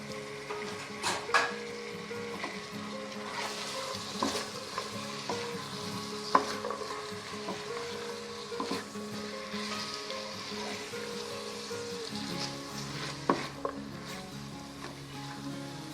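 Kachnar buds are stirred into sizzling keema in a pan, with a steady fry under scraping stirs and clinks of a spoon against the pot, close and continuous without speech.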